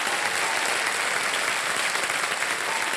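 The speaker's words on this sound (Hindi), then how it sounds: "ताली बजाते हैं आपके लिए।" A studio audience applauds for a quiz show contestant, steady dense clapping from many people, close and even in level from start to finish.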